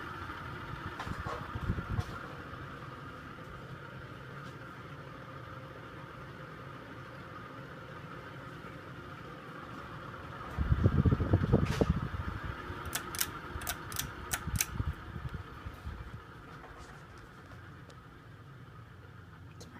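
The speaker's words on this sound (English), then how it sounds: "Surprisingly, the spin down's decent for a fan with the bearings that sound like crap." A 1988 Sears Encon 42-inch spinner ceiling fan with bad bearings runs with a steady whir and hum, then rattles and knocks roughly for a few seconds before easing back to a quieter drone.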